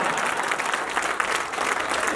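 An audience at a Hindi poetry gathering gives a burst of continuous applause, dense and even, with a faint crowd murmur underneath.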